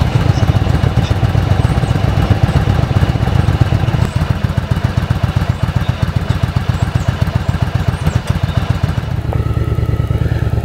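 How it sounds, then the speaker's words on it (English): A motorcycle engine runs close by with a light throttle roll-on around 1500 to 2000 RPM, a steady rapid chugging putter that holds for about nine seconds before dropping back toward idle. "roll on just a little throttle so as to bring the engine RPM, say between 1500 and 2000 RPM for leaving the line"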